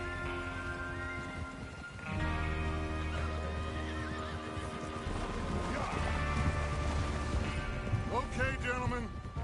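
A horse whinnies amid busy game audio, with music and ambient noise running throughout and voices talking over parts of it.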